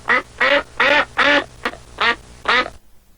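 A duck quacks seven times in an even, evenly spaced series of loud, nasal calls, close and alone, ending in silence.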